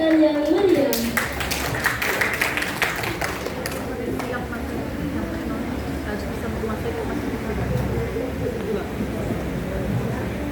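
An audience claps for a contestant at a school preaching competition for Isra' Mi'raj at MTsN 3 Kediri, Indonesia. Sharp, scattered claps are loudest at first and thin out after a few seconds into room murmur and talk.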